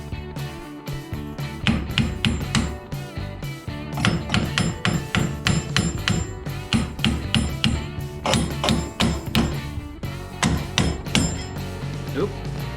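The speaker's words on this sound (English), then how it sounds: "tapping with a hammer may be needed to initially loosen the wheel" Repeated sharp metallic hammer taps on a steering wheel to loosen it come in quick bursts and short pauses, ringing close and loud, with no voices.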